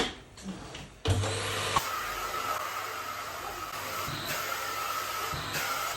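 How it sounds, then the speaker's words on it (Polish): A vacuum cleaner starts up with a thump about a second in and runs steadily while a room is vacuumed, a loud continuous whine and roar close by with slight shifts as the nozzle moves. "Odkurzanie Update."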